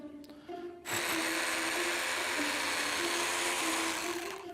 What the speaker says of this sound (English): I'm going to put a couple more holes in here